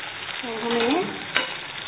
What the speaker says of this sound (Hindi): हल्का भूरा होने तक, ज्यादा नहीं हल्का भूरा होने तक हमें तलेंगे।